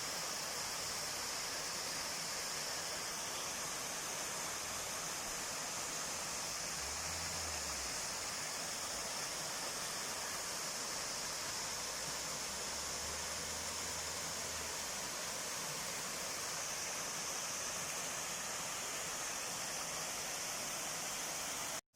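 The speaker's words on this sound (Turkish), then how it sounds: "Gördüğünüz gibi Erzincan'daki şelale." Girlevik waterfall in Erzincan roars as a dense, constant rush of falling water, steady and enveloping throughout with no pauses and no voices.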